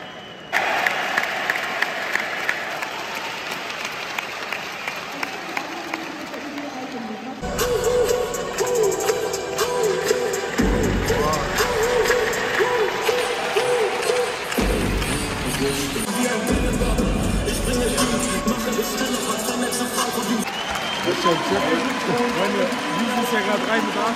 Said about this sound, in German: Jubel!